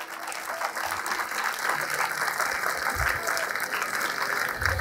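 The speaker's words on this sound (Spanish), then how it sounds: "Denles un aplauso por fuera a Jesucristo." Congregation applauding during a church sermon, a continuous wash of clapping that holds steady throughout, with low murmurs beneath.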